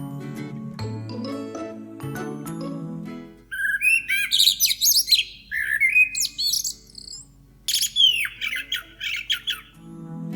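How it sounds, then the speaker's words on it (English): Common blackbird singing, with a low murmur at the start giving way to a series of clear, fluting whistled phrases and high chirps, separated by short pauses and heard fairly close. "Our third bird is a blackbird."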